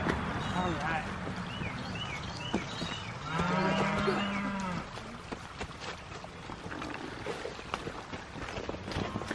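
Cattle moo, one long low call standing out among other bellows, while people talk nearby over outdoor rustling and clatter.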